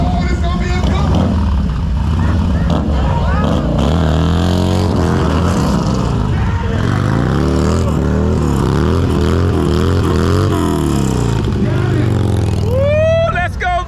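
Motorcycles rolling past at a Thunder Tower West bike night, engines droning and revving in a loud continuous mix with crowd noise and people talking and shouting throughout.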